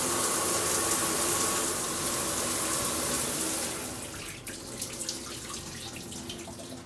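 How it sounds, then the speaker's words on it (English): Hot water gushes steadily through a Natural Rapids shower filter, loud and close for a few seconds before easing to a softer, lighter flow with faint splashing. "the last step is to run some hot water through the shower filter"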